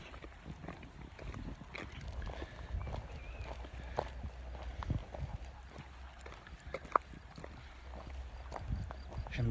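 A horse walks with irregular hoof clops on the ground outdoors, faint and at moderate distance, with wind and scattered background noise.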